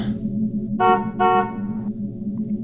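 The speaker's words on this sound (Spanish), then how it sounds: "un viernes aquel joven amigo llegó tocando el claxon" A car horn honks twice in quick succession, loud and close, over a low idling engine hum.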